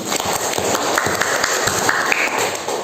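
A classroom group gives a round of applause for a teacher named Pak Is, steady overlapping clapping at moderate volume throughout, with no voices over it.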